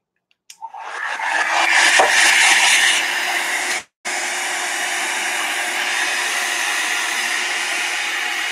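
A hair dryer drying alcohol inks on a gelli plate switches on with a click, then blows a loud, steady, close whoosh that cuts out briefly and resumes, running on alone.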